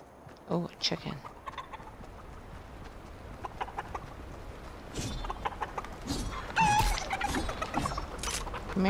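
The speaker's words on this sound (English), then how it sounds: "Come here, chicken." Chicken in the video game Fortnite clucking in short bursts amid gameplay noises, footsteps and shuffling, moderately loud near the start and later, with a player talking at times.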